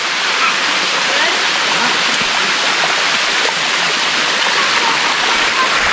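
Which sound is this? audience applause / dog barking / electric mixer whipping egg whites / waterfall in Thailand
waterfall in Thailand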